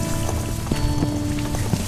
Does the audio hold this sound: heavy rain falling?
yes